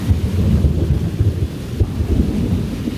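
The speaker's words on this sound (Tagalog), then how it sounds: "Ayan, may kumukulog na. Kung naririnig ninyo yung kulog." Deep, rumbling thunder rolls through steady heavy rain during Typhoon Carina in North Caloocan, a loud low growl that swells and fades over a few seconds.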